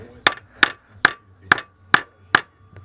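Metal tabs tack welded onto a motorcycle spotlight bar are bent with a hammer, six sharp, evenly spaced ringing strikes up close, with no talking.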